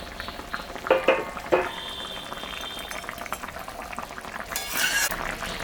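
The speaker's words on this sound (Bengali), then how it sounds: "ঝোলটা ফুটে গেছে।" Fish curry broth with coriander leaves bubbles steadily in a pot, a soft continuous simmer broken by a few clinks and stirring clatters, with someone speaking now and then.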